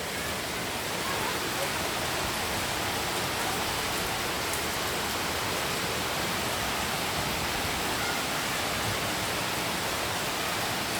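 Steady rain falls on a Sunday afternoon as a dense, even hiss that stays constant throughout, close and moderately loud, with no talk over it.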